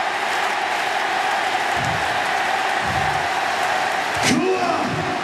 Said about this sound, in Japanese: 敗れた健介にも大歓声が送られています。